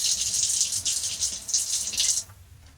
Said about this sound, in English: I'm going to throw just a couple of drops of water in here.